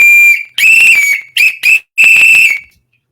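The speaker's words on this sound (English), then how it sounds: "I had to have my whistle because when you're the coach, you got to have your whistle." A coach's whistle shrills loudly in four sharp blasts: a long one, two quick short ones, then a final long blast, with no talk.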